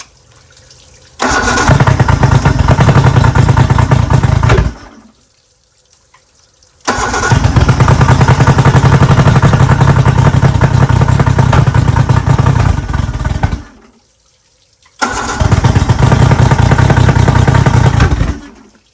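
A homemade race outboard motor sputters to life in three loud bursts, each roaring steadily for a few seconds before cutting out to near silence, with the longest run in the middle.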